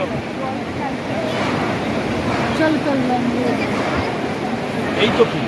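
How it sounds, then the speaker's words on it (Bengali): Hot spring water gushing out at Manikaran Gurudwara in the hills, a continuous loud rushing roar of water with faint crowd and voices mixed in. "কত স্পিডে গরম জল বেরোচ্ছে, সারা বছর এইভাবেই জল বেরোয়, গরম জল"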